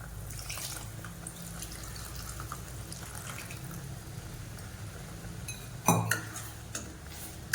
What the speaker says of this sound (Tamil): உப்பு சேர்த்துட்டு இதில் இருக்க புளித்தண்ணி ஊற்றிக்கலாம்.